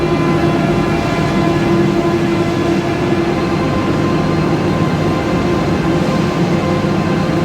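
The EUROMED 1101 train pulls away from the platform with a loud, steady mechanical drone and a low rumbling hum, a sustained tone holding throughout with no voices.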